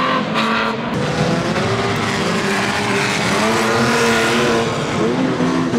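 Banger race cars from a Pre 1990 Unlimited Bangers meeting at Mildenhall roar loudly round a bend, engines droning continuously with tyre noise as the pack races through the turn.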